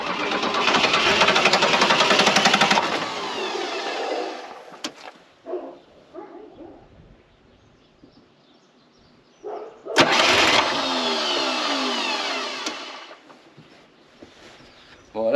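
A Jeep engine with its fuel tank just above reserve cranks in two loud, rough bursts of a few seconds each, with quiet pauses and faint clatter between them.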